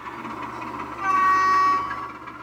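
An HO scale model British Rail Class 25 "Rat" diesel locomotive running with a sound decoder, a steady engine drone that swells briefly with a horn-like tone, close and clear.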